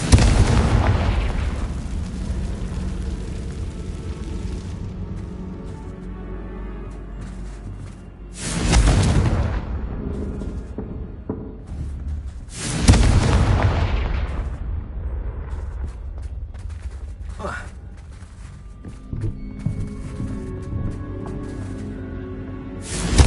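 Confringo blasting spell in Hogwarts Legacy: two heavy explosive bursts a few seconds apart over a rumbling game ambience, each loud blast decaying into a long crackling tail, no talking.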